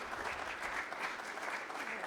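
Applause from the audience at a Lompoc city council meeting, a brief, fairly faint patter of clapping hands heard from a distance and holding steady throughout.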